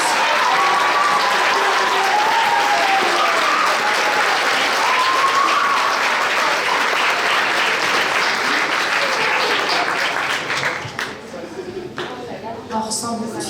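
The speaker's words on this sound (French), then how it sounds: "On peut l'applaudir encore une fois." Sustained loud applause from an audience at a regional science fair awards ceremony, steady clapping that thins toward the end as a voice speaks.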